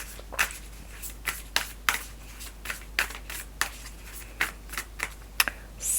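Tarot cards are shuffled in quick bursts, a steady series of crisp riffling snaps close up with short pauses between them, and no voices.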